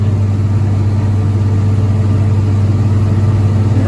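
A John Deere 60 tractor engine labors steadily under load while pulling a hay rake, a continuous low, droning rumble that stays loud and even throughout with no talking.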